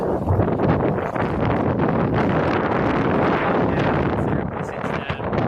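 Strong wind of 25 to 30 knots roars steadily over a sailboat under way between Pensacola and Destin, a loud, constant broadband rush with buffeting and no speech.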